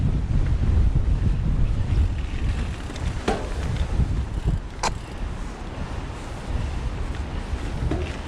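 Strong wind on a trail in Helsinki buffets the microphone in a steady, heavy roar, with water lapping and sloshing underneath throughout.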